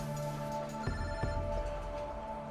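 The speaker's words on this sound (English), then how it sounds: "During the meal, Moises gets a phone call." A telephone rings with steady electronic tones over a dense background hum, fairly close and continuous, during a meal at a restaurant.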